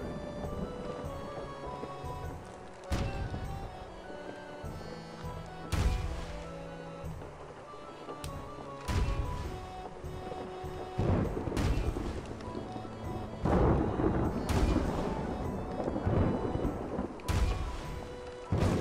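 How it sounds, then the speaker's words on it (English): Cannons fire in the Pirates Online game, a series of heavy booms spaced a few seconds apart over a busy, tonal game background, growing denser toward the end. "These cannonballs are way better because they go back, they go like way further and they're more accurate."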